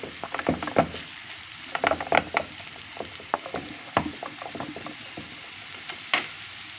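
Irregular clicks and scrapes of a utensil stirring frying onion in a pan, with a soft sizzle underneath; quick, uneven strokes close by.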